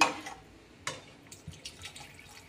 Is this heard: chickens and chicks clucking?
no